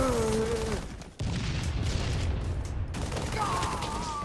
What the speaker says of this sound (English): Some of the guns and explosions sound right, but the assault rifle just sounds, well, stupid.